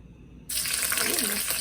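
Liquid drains off stir-fry ingredients with ginger held on a slotted spoon, a sudden close, steady watery splash and trickle that starts after a brief quiet moment.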